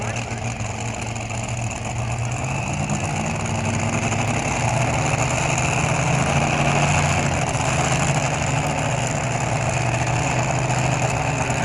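A blown and injected drag racing engine of about 2,500 horsepower idles at a night event, a constant loud, rough, low rumble held steadily throughout with a roaring crowd-like wash over it.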